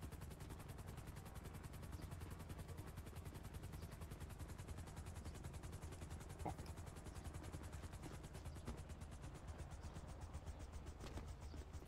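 A helicopter flies in a video game, its rotor giving a steady, dense chopping drone that holds evenly throughout, fairly faint, with a few sharp pops in the background.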